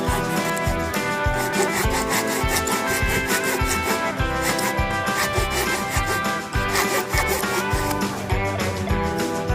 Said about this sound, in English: I had to improvise and use a hacksaw blade.